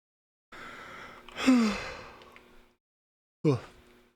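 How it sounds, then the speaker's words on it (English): A single drawn-out human yawn with a breathy rise and falling groan, close and fairly quiet, followed about a second later by a short sharp breath or gasp. "There's that yawn, bro."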